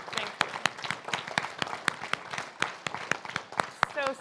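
Audience applause at an awards lunch panel: a short burst of clapping from a seated crowd, scattered and fairly close, with voices and a brief high squeak near the end.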